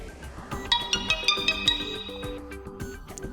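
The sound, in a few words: default notification ringtone on CAT S40 phone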